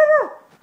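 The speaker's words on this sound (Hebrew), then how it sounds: "אני רואה איזה כלב עומד מולי." A single short dog vocalisation, a brief whine or bark that slides down in pitch and fades within a second, heard close and alone during a children's story reading.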